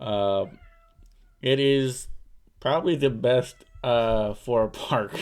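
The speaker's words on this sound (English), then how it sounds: "I don't know if you guys can hear the cats in the background" Cats meowing outside an office door give several drawn-out, wavering cries that come and go. They mix with a person talking nearby and are at times as loud as the voice.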